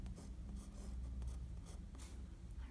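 A pen writes a Chinese character by hand on paper, with short scratchy strokes in a few quick bursts, close and soft over a low background hum, no talking.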